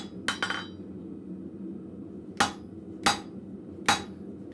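A blacksmith hammers steel on the edge of an anvil at a forge, striking a shoulder into the bar: a quick double strike, then three sharp, ringing blows spaced roughly evenly, fairly close, over a low steady shop hum.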